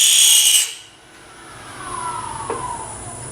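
A chatter tool cuts a pattern into a workpiece spinning on a lathe, giving a faint, steady high-pitched scraping whine that rises after a short loud burst of noise at the start.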